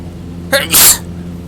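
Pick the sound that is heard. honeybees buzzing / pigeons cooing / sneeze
sneeze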